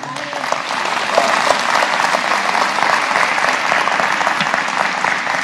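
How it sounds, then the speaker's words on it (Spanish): A church congregation breaks into loud, sustained applause, dense clapping that swells quickly and holds steady throughout. "Un aplauso al Señor."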